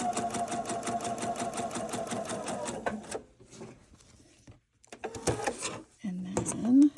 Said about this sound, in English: So we're going to sew on this side.